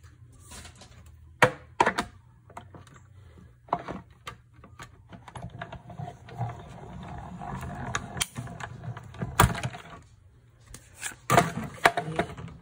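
A die-cutting machine cuts a 2¾-inch oval from cardstock with a layering-ovals die, giving a run of sharp mechanical clicks and ratcheting cranks with a low grinding rumble under them, close and alone.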